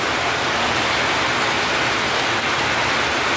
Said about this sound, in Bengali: গাইস দেখো এত খারাপ বৃষ্টি দেয়